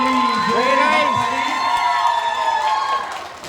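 Applause and cheering at a Pohela Boishakh Bengali New Year celebration, a crowd's clapping and excited whoops with children's rising shouts, loud and close, fading toward the end.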